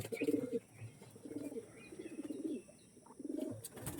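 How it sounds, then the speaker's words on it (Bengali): Soft, repeated low cooing from a pencil-tail pigeon in short rolling phrases, fairly close, with faint chirps in the background. "একদম পেন্সিল দুমের পায়রা"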